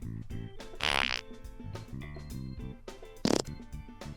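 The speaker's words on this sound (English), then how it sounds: "They're actually fart sounds." Fart sound effects from the video game Scrap Mechanic play as a run of short, buzzy, tonal blasts of varying pitch, loud and alone, with two sharper sputters standing out.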